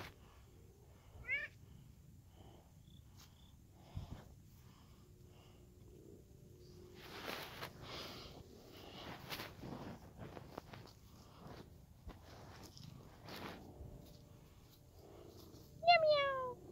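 A cat gives a few short meows, one near the start and a louder one at the end, amid quiet rustling and soft movement sounds.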